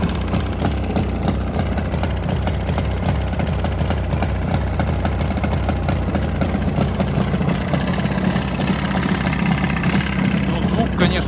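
A 1987 Jawa 638 two-stroke motorcycle engine idles steadily up close, a rapid, uneven putter with rattling vibration running throughout.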